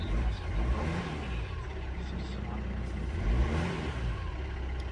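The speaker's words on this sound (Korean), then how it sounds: "터보 약간 바람 빠지는 소리 나죠." Used Korando C with a turbocharger that is leaking air, heard at an auction lot; a steady nearby engine hum with a broad airy whoosh and a couple of swelling revs, voices faint underneath.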